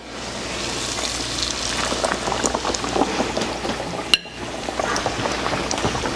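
Chicken breast sizzling in a hot pan with previously cooked bits, a dense steady crackle and spit of frying fat, close and loud, with one sharp clink near the end.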